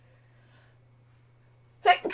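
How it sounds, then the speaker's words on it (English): A single sharp sneeze from a drummer during a live Q&A stream bursts out after near silence, close and loud, followed by a short breathy tail over a low steady hum. "I'm going to sneeze before I answer that question."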